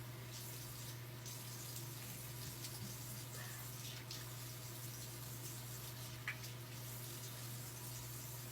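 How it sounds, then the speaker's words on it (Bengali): A bathroom tap runs while someone washes their face with soap, a faint steady water stream over a constant low hum, with occasional small splashes. "এখন আমি সুন্দর করে ফেসটা ধুয়ে নিতেছি"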